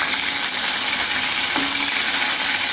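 Bombay duck fish pakoras, five or six at a time, fry in hot oil in a wok, giving a steady, close, even hiss of sizzling with no talk.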